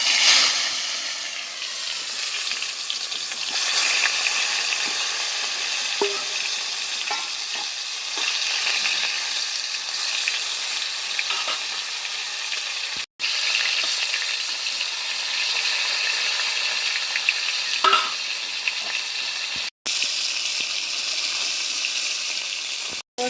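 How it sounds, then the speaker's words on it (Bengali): Pointed gourd (potol) frying in hot mustard oil in a kadai, a continuous close sizzle and hiss with occasional stirring clinks and brief cuts, no voices. "তেল গরম হয়ে গেছে, এবার আমি পটলগুলো ভেজে নেব।"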